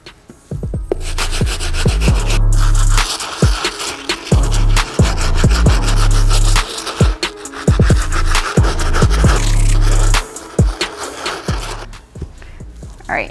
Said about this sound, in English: we're gonna move on to our sole brush.